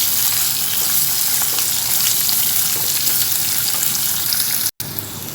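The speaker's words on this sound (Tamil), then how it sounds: "வெங்காயம் சேர்த்து நல்லா வதக்கிக்கலாம்" Onions sautéing in a pan for mutton keema, a loud, continuous close sizzle and crackle with a brief break near the end.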